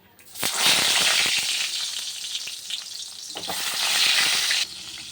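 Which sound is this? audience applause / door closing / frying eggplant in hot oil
frying eggplant in hot oil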